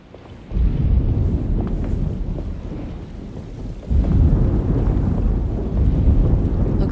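Storm wind rising in Alone in the Dark as a loud, rumbling gusty roar that swells in after a quiet start, dips slightly, then surges again strongly, heard alone without voices.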